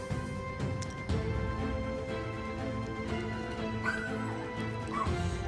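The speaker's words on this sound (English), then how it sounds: "And now the dog's freaking barking." A dog barks and yips repeatedly in the video game Celestian Tales: The Old North, with short whimpering calls over a steady background of game music.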